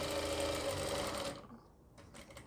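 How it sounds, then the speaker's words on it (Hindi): Sewing machine stitching a reusable baby diaper, a loud close whirring run of rapid stitches for over a second that then stops, leaving faint handling noise. "फिर इसको ऐसे करके यहाँ से सिलाई लगाएंगे"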